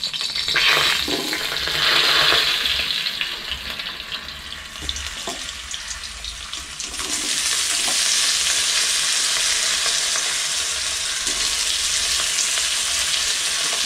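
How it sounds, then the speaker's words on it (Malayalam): Potatoes frying in a pan on low heat for an Afghani omelette, a steady close hiss of sizzling oil that swells louder and brighter partway through and then holds, with occasional faint clinks and no talk. "ഉരുളക്കിഴങ്ങാണ് നമ്മൾ ആദ്യം ഇടുന്നത്."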